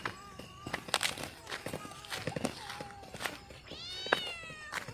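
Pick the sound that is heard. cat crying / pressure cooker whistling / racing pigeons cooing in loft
cat crying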